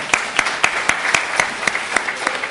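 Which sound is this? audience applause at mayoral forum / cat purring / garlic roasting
audience applause at mayoral forum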